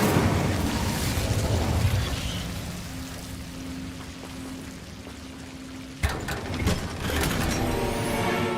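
A magical fire spell, Incendio, cast in the video game Hogwarts Legacy, gives a rushing, crackling burst of flame with rumbling mechanical texture, followed by a sharper crackle partway through. It stays moderately loud and has no talk.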